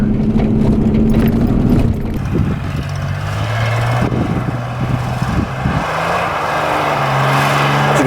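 A 1987 Ford Ranger engine roars and revs hard in a loud, steady drone, the pitch rising and falling as the wheels spin, with rough rumbling and scrabbling underneath throughout.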